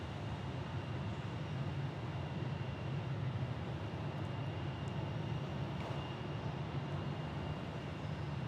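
A passenger airliner in a special Puerto Rico livery taxis across a bridge at Orlando International Airport, its engines giving a steady, distant broadband rumble with a constant hum that holds evenly throughout.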